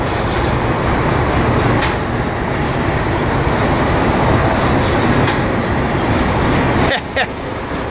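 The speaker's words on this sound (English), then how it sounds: "Boy, this train's struggling." A heavy freight train struggles uphill on Cajon Pass, rumbling loudly and steadily nearby, its locomotive engines droning under strain with helper units, with occasional clanks and a voice speaking briefly.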